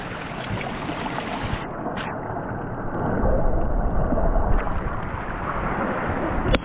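Stream water at the Aira Force waterfalls rushes and splashes in a dense, close wash of noise, with brief bursts of wind buffeting the microphone.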